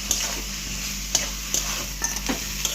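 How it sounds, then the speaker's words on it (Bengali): Bottle gourd stirred in a kadai (wok) while it sautés, soft scraping stir strokes recurring every half second or so over a low steady sizzle, close and moderately quiet, no voices. "এবার আমি লাউটাকে দিয়ে দিলাম কড়ার মধ্যে। দেখো এবার আবার লাউটার সাথে আমি কষাবো।"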